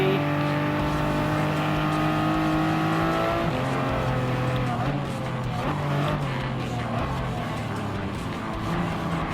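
A race car engine roars loudly and continuously in Gran Turismo Sport during a five-lap race, with the pitch rising through acceleration, dropping at a shift, and climbing again, and faint tire noise underneath.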